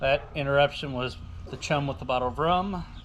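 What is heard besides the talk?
No everyday noise stands out behind the speech.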